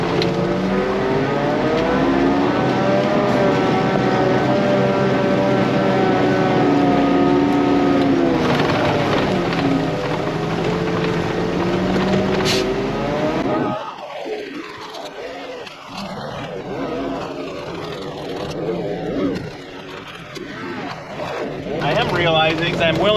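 A tractor engine drives a TMR feed mixer on a cattle farm, a loud, steady droning hum for most of the stretch that then turns rougher and more uneven, with swelling bursts of mechanical noise toward the end.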